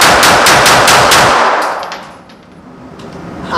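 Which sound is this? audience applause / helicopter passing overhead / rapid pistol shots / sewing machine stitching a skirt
rapid pistol shots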